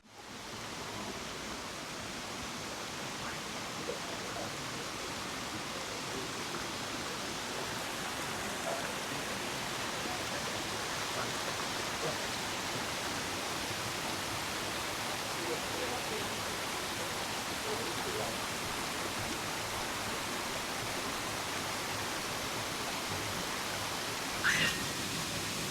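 A lower waterfall on a creek near a Moab campsite, a steady broadband rush of falling water that stays constant and fairly loud throughout, with no talking.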